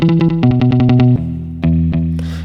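A Fender Mustang electric guitar played through a Fender Deluxe tube amplifier with spring reverb, heard as a loud, rapid run of short palm-muted plucked notes followed by a few sustained tones that ring out and decay.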